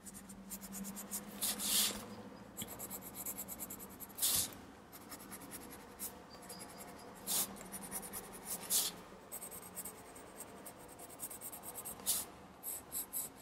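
Light drawing strokes scratch across textured watercolor paper, close and quiet, coming in short intermittent bursts of rubbing with pauses between them and no talking.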